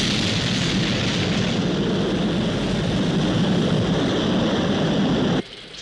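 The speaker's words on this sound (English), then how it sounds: "We have liftoff." A rocket lifts off with a sustained, dense roar that stays loud and steady throughout, then drops off abruptly near the end, with no voices over it.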